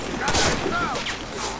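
Gunfire in the online shooter Warface during a hardcore co-op mission, sounding as a loud burst of shots in the first half followed by further reports, with players talking over it.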